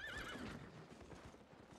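A horse in the video game Albion Online whinnies, then hooves clip-clop softly in the background; faint and brief.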